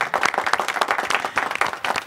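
An audience applauds designer Rosine Bikay at the Miss RDCongo pageant, brisk, fairly loud, close clapping with distinct rhythmic claps from many hands, continuing throughout.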